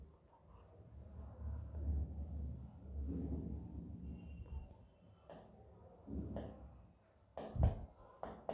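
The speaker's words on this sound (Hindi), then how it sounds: "अब एक सेंटेंस और लिखते हैं" Pen or marker writing a sentence by hand on a board or paper, faint scratchy strokes over a low room rumble, ending in a few sharper taps and scrapes, no talking.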